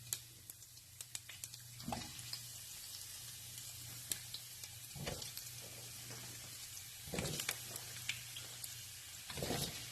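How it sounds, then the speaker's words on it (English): Towel-dried potatoes fry in a pan, a quiet steady sizzle broken by a few soft stirring scrapes and clunks. "I'm going to go ahead and add my potatoes to the pan"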